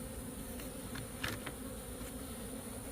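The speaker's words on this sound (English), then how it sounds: "The bees will chase the hive beetle down in there." Bees buzz steadily in a low, constant hum around a beehive, with a few individual insects flying briefly closer during the drone.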